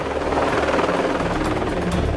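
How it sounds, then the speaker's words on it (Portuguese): A Military Police helicopter passes overhead above a residential community, a steady rotor drone and engine buzz holding at a constant, fairly loud level throughout with no voices. "ver o helicóptero da Polícia Militar sobrevoar a comunidade"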